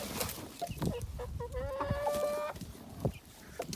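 Chickens cluck in short bursts around a blue rooster, with one longer harmonic crowing-like call rising mid-way among scattered farmyard noises, fairly close.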